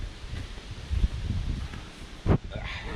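Wind gusts buffet the microphone outdoors, producing uneven low rumbling and rustling with a couple of sharper blasts, fairly close and moderate in level, no voices.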